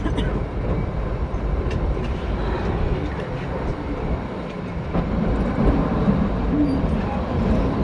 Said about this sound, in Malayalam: ട്രെയിൻ ഷോഗി റെയിൽവേ സ്റ്റേഷനിൽ നിന്ന് ഡിപ്പാർട്ട് ചെയ്തിട്ടാ.